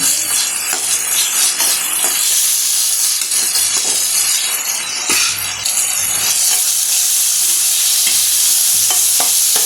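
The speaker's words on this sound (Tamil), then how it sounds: "தக்காளி பார்த்திங்கன்னா நல்லாவே வதங்கி வந்துடுச்சு." Tomatoes sauté with a pinch of rock salt in a pan, giving a steady close sizzle and fry hiss throughout, with scattered clinks and scrapes of a stirring spoon against the metal.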